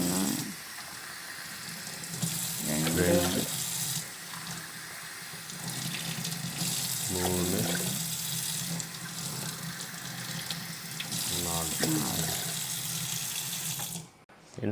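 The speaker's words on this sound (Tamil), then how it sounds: "இப்போ 3-4 டம்ளர் தண்ணி ஊற்றணும்." Tumblers of water are poured one after another into a pot while making ghee pongal, giving a continuous splashing stream that rises and falls, with people talking and counting over it.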